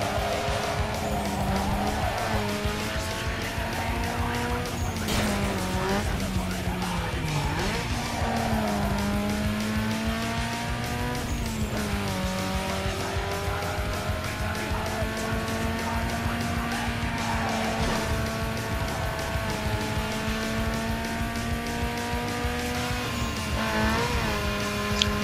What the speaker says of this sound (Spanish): aquí hay una carrera de derrape